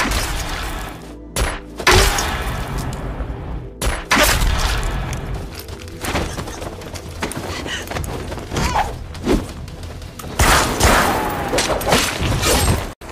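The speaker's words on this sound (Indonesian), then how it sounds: "menghindari tembakan musuh lalu menghabisinya" Bursts of gunfire and heavy impacts crackle through a loud action scene, with sharp cracks and thuds scattered over a dense, rumbling background.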